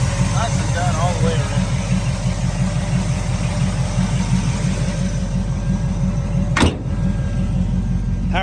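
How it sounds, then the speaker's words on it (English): Electric power convertible top on a 1972 Chevrolet Chevelle SS with a 454 V8 whirs steadily as it raises, over the close, continuous rumble of the idling engine, with a brief sharp noise near the end. "Power top goes up easy."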